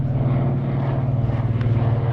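Lockheed 12A Electra Junior twin-engine propeller plane passing at an airshow, a loud, close, steady engine drone with pulsing propeller beat throughout the short moment, no talking.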